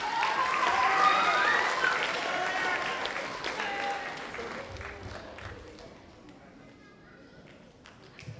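An audience at a middle school academic awards ceremony applauds, a dense wash of clapping that starts loud and slowly fades over eight seconds.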